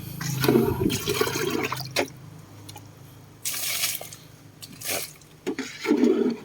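Frog-waste water used as liquid fertilizer for lime trees drains out of a tank in uneven gushing bursts, with splashing surges and lulls, close by and without speech.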